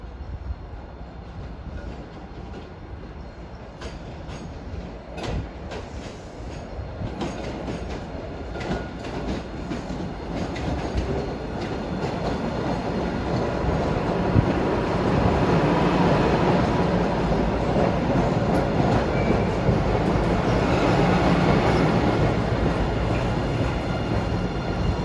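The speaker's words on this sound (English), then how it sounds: "we'll hop on this Boston-bound train and go to the next stop" A Boston MBTA Blue Line subway train rides toward Revere Beach, Boston bound, with a steady, loud rumble and rail clatter that builds and stays strong through the second half.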